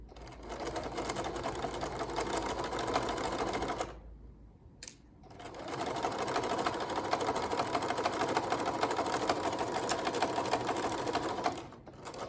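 A sewing machine runs steadily, stitching a flat felled seam along a folded fabric edge, pausing briefly in the middle and then continuing at an even, close, fairly loud hum.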